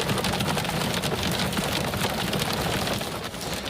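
Steady heavy rain pours down as a storm cell rolls through Evanston in north Calgary, a dense continuous hiss of drops on surfaces with a low rumbling undertone, close and loud throughout.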